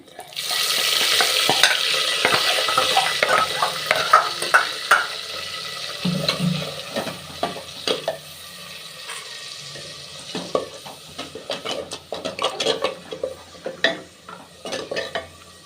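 Ground spice paste sizzling and frying in a pan, with repeated scraping and stirring clatter of a spoon against metal, close and moderately loud.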